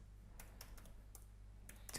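Keys tapped on a computer keyboard while text is entered in a graphics program, a handful of quick, soft clicks spread over two seconds, faint and close with no talking.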